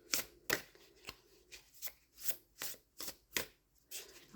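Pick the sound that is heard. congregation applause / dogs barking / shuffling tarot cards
shuffling tarot cards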